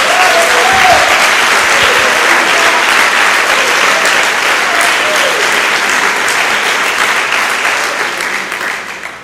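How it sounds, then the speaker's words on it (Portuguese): A church congregation breaks into loud, sustained applause, a dense wash of clapping that holds steady for several seconds before tapering off at the end. "Dê uma salva de palmas ao Senhor."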